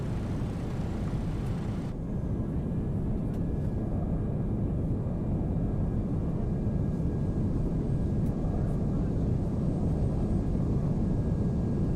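An MD-11 passenger jet engine spools up during a start, heard from the cockpit as a constant whining roar that stays even throughout with faint high tones.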